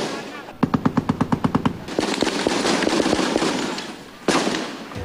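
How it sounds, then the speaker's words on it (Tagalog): Heavy automatic gunfire as tanks fire on sniper positions in an urban combat zone, a rapid burst of about nine sharp, loud shots followed by sustained rumbling fire and a final blast, with voices faint underneath. "ang mga sniper naman ang pinuntirya ng mga tangke."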